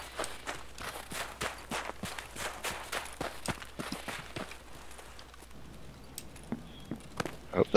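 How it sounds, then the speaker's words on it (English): Footsteps crunch on snow in the video game Escape from Tarkov, a steady series of close, fairly loud steps that thins out toward the end, with no talk over them. "Makes your footsteps loud as hell."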